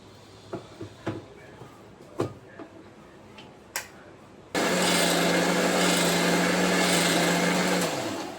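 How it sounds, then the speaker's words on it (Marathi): A few scattered clicks and taps lead into a mixer grinder that starts abruptly and roars loud and steady for several seconds, blending jamun juice with rock salt and ice, then begins to wind down. "आता हे सगळं मी मिक्सरमधून काढते."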